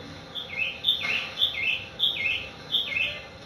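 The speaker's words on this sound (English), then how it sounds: "There are a fuck ton of birds in Baldur's Gate." Ambient birds in the fantasy city of Baldur's Gate chirp in a steady, repeating pattern of short, bright tweets, moderately loud and close, with no talk over them.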